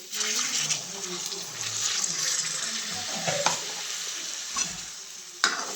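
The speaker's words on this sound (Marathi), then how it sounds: "आता त्याच्यामध्ये गरम केलेलं पाणी टाकते." Hot water is poured into a pan of frying peeled peas and potatoes, giving a watery splash and sizzle with scraping stirs, plus a few sharper knocks near the end.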